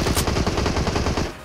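Rapid machine-gun fire in the mobile game PUBG Mobile, a dense, loud burst of evenly spaced shots lasting about a second before tapering off.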